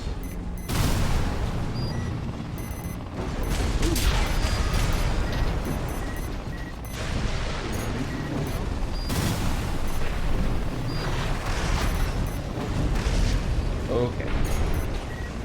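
Missile launches and explosions from the mech combat game Armored Core 6, a dense run of booming blasts and rumbling fire layered thickly over one another, loud and continuous, with game voice chatter mixed in.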